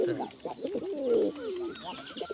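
Pigeons at a home loft with chicks, a close, continuous throaty cooing that swells in the middle and then trails off, with lighter warbling coos layered behind it.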